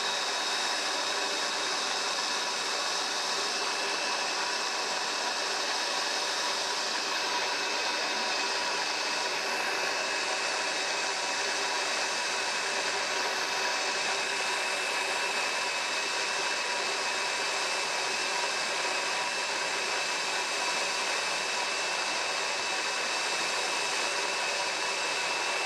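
Grain mill grinding malt on a homebrew day, a constant loud whirring hum that holds steady from start to finish with no pauses.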